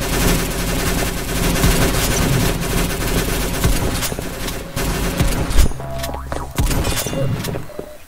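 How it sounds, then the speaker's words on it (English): Submachine gun in a Roblox game firing rapid sustained bursts, loud and dense, with crashes and impacts mixed in and a brief break near the end before firing resumes. "I guess this is a submachine gun"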